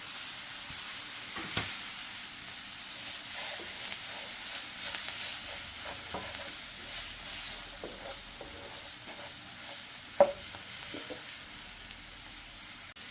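Masala and curry leaves fry in a pan while being stirred: a constant soft sizzle broken by intermittent scrapes and clinks of the spoon, including one sharper knock near the end.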